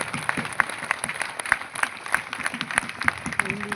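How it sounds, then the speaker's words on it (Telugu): A church congregation at an Easter resurrection Mass claps loudly in a dense, steady patter of hand claps, close and sustained throughout, with faint voices underneath. "గట్టిగా చప్పట్లు కొడుతుంది దేవునికి"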